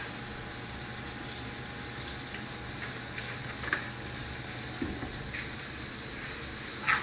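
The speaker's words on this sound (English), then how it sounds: "Add a couple more tabs of butter in there. And just a little bit more olive oil." Butter and olive oil sizzle faintly in a frying pan, a steady soft hiss with a low hum beneath and a few small ticks.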